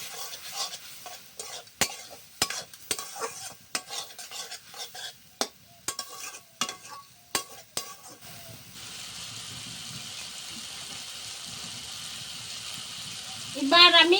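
Cashews and Kashmiri chilli powder stirred in a pan with a spoon, a run of close scraping strokes and clinks over soft sizzle that settles into a steady hiss of frying, with a brief louder flare at the end.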